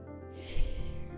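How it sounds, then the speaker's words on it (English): A person blows their nose into fabric scrubs, a short breathy, rushing snort that swells to a loud peak and trails off, close and alone. "you're not supposed to see me blow my nose into scrubs"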